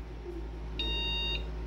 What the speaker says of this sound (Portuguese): 4 bips, galera. Mas tá dando sinal.